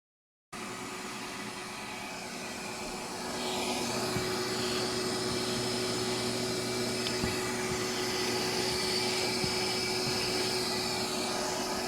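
A shop vacuum roars steadily while sucking up peeling roof membrane debris in an abandoned school under renovation, starting abruptly and growing louder after a few seconds, then holding a constant whooshing drone.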